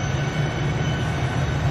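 A train rolls past with a steady, low rumbling drone that holds even throughout, moderately loud with no voices.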